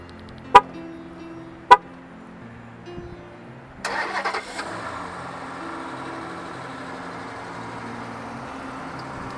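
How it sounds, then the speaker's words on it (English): A 2013 Chrysler 300S starts by remote: two short sharp chirps, then the engine cranks and catches, settling into a steady low idle that carries on alone. "The vehicle is also equipped with remote start."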